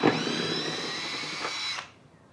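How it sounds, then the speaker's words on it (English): A power drill with a socket removes a bolt on an Airstream trailer, whirring steadily for nearly two seconds with a brief rise in pitch, then cutting off and winding down to quiet. "simply put your socket on a drill"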